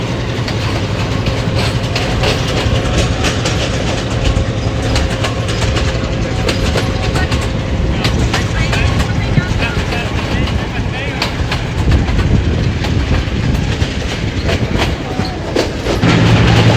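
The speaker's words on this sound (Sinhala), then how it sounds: "ट्रेन එක දැන් බණ්ඩාරවෙල ස්ටේෂන් එකට ආවා." The Calypso train pulls into Bandarawela station with a loud continuous rumble and clickety-clack of wheels on rails, steady from start to end, while people talk over it.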